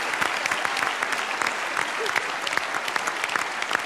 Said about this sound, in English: Give yourselves a quick round of applause.